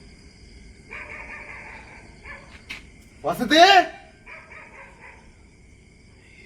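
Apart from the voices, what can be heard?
dogs barking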